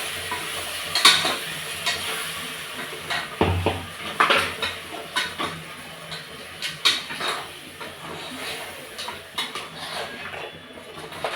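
Mutton curry masala with ginger-garlic paste and tomato paste frying in oil, a continuous close sizzle with frequent sharp scraping and clinking stirs of a utensil against the pot, irregular and fairly loud, no voices.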